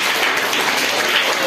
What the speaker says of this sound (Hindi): तो बजा दो ताली।